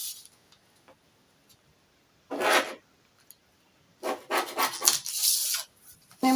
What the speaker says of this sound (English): So we just draw a straight line like this.